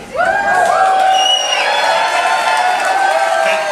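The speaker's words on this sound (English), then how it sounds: "They deserve all your gratitude and applause." An audience at a cruise ship farewell party whoops and cheers, with rising, sustained voices and a crowd roar underneath for a few seconds.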